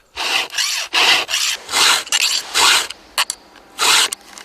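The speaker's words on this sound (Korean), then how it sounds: "갑자기 기계톱 소리가 멈춰 무슨 일인가 했더니 톱을 갈고 있는 작업자." A logging worker hand-files a chainsaw blade to sharpen it, with about eight distinct rasping strokes in an uneven rhythm, close and fairly loud, with short pauses between them and no talk.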